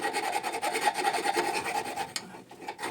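Steady rasping strokes of a half-round file scraping back and forth inside a very hard metal workpiece, close and continuous, then a short pause and a few lighter scrapes.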